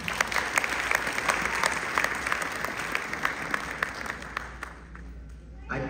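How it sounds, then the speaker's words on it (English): Audience applause at a benefit concert for the Chicago Kali Bari, sustained even clapping from a sizeable crowd that tapers off near the end. "Please give a big round of applause."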